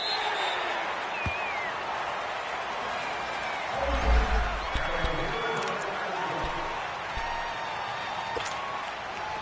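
A stadium crowd in the Madden 19 football video game murmurs and cheers as a broad, steady roar, with a commentator talking over it.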